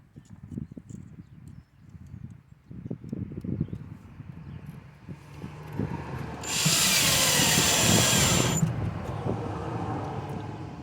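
Power drill driving screws into a wooden soil screen frame, a loud sustained whir of about two seconds rising over earlier knocking and handling noises close by.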